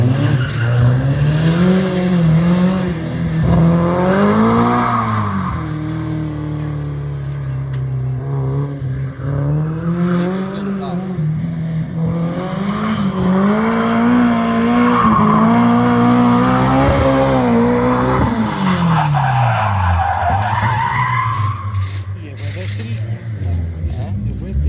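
A rear-wheel-drive Honda Civic EG with a K24 engine revs hard and rises and falls in pitch while tires squeal through sustained skids, loud and close, with a voice speaking over it.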